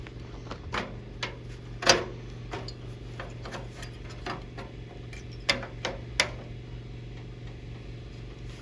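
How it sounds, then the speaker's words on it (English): Hammering on a sheet metal patch panel for a 1964 Chevy Impala fender, with scattered sharp metallic taps of varying loudness over a steady low background hum. "Hammer a little bit more of an angle."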